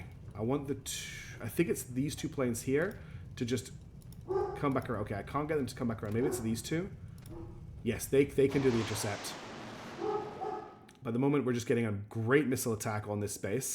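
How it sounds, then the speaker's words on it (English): A dog barks in yips and bow-wows off in the background while a person talks steadily over it. "Sorry about the dog barking in the background."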